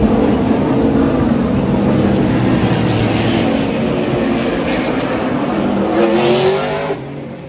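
Trans Am series race cars at the Newcastle 500 street race, a loud, continuous roar of engines passing close by that holds steady before easing off at the end, with no talk over it.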